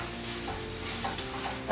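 Sweet Italian sausage, broken up in a pan for keto zucchini boats, sizzles and crackles steadily up close with a few stirring scrapes.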